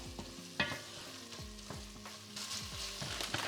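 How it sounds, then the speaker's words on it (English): Red wine stirred into a frying sauce base for a vegetarian lasagne, a soft sizzle with repeated spoon scrapes against the pan. "We're going to stir that red wine in and let the alcohol evaporate."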